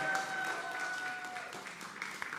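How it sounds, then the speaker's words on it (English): An audience applauds a piano player at a live music event, producing a dense, fairly loud wash of clapping with faint sustained musical tones underneath. "Round of applause, please."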